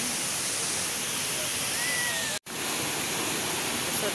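Tinuy-an Falls in Bislig City pours a steady, broadband roar of falling water that holds an even level throughout, cut by one very brief dropout near the middle.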